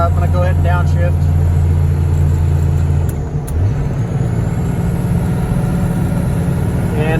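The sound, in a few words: pickup truck engine downshifting while hauling heavy hay equipment uphill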